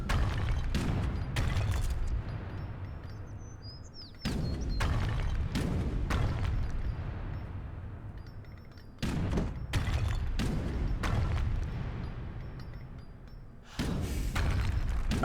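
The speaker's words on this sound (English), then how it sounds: "I'm just cautiously watching cannons fire at the bank." Cannon fire in the real-time strategy game Age of Empires III, a battle near a bank building: heavy booming thuds come in clustered volleys with brief gaps between them, loud and repeated with no voices.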